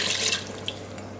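Liquid beef and broccoli marinade pours into an Instant Pot, a brief steady splashing stream that tapers off with a small drip, close and alone.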